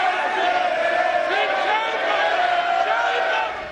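Members of the Lok Sabha shout over one another in a parliamentary uproar, a dense, steady wall of raised voices and crowd commotion that holds throughout, then eases slightly at the end.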